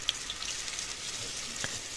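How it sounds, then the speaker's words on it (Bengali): Paneer fries in hot oil in a kadai, giving a soft, continuous sizzle with a few faint crackles and pops, quiet and close. "বেঁচে থাকা বাদবাকি পনিরটা আমি ভেজে নিচ্ছি।"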